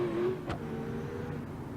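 V8 engine in BeamNG.drive holding a steady, strained drone after a brief high rev, with a short sharp knock midway, heard close and alone.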